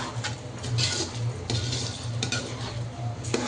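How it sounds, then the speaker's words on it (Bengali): Pulao cooking in pure ghee in a pot is stirred, giving scattered scraping and clinking of a utensil against the pot over a steady low background, with no talk. "আমরা এখন নেড়ে চেড়ে দিচ্ছি। খাঁটি গাওয়া ঘি দিয়ে আমরা এখন পোলাও রান্না করতেছি।"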